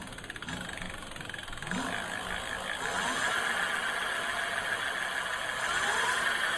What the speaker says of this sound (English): And let's give it throttle, even though the bike is on the ground.